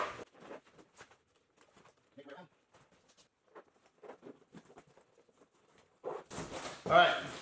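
The zipper on a truck bed rug is worked along the edge of its liner in a 2019 Ford F-250 bed: short, faint, intermittent rasps and rustles with pauses, ending in a louder scrape of fabric.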